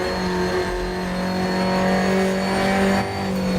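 Alfa Romeo Giulia TZ2 accelerating on the historic Nordschleife in a racing game, a loud, close, buzzing engine note held under hard throttle throughout without talk.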